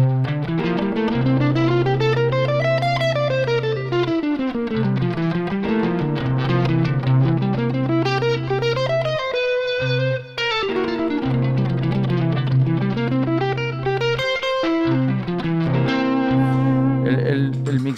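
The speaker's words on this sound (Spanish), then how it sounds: "El mixolidio natural suena así." A natural mixolydian scale played up and down repeatedly on a sustained, effects-laden electric instrument, loud and continuous with a short pause midway.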